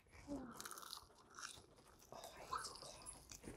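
Biting into crunchy breaded sweet and sour chicken from a buffet, with a few close, quiet crunches followed by chewing.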